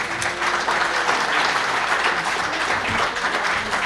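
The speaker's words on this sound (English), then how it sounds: "Anybody want to clap their hands?" Audience applause in a conference talk hall, a steady dense wash of many hands clapping that fills the whole moment at fairly loud level, with no voices over it.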